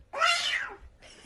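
A voice imitates a cat, producing one loud, close, rising-then-falling meow on its own, followed by a faint breathy tail.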